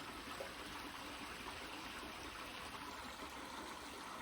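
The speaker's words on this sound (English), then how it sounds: "Another small waterfall." A small waterfall at Leo Petroglyphs Nature Preserve trickles and rushes in a steady, even wash of flowing water, soft and continuous with no other sounds.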